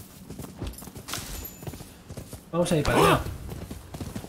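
Horse hooves clip-clop in Rise of the Ronin, a steady stream of hoofbeats running under a man's speech, with a louder burst partway through.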